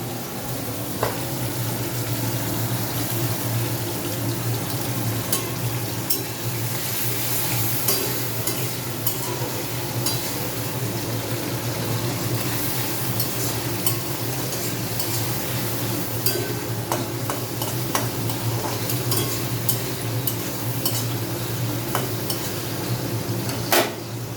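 Shrimp sizzle loudly in a pan while being stirred, with continuous frying hiss and frequent metallic scrapes and clinks of a utensil against the pan, close up and without talk.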